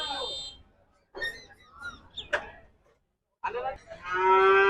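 Cattle moo loudly several times at the busy outdoor Hozrotpur cattle market, with a drawn-out call at the end and people talking faintly in the background.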